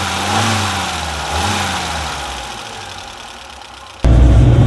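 Toyota Celica ST 1600 with a four-cylinder, twin-carburetor 86 PS engine revving twice, then settling into a falling hum before a sudden loud jump in engine roar near the end.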